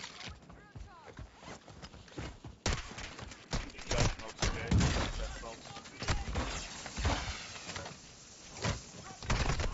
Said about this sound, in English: I can't see where these guys are shooting us from.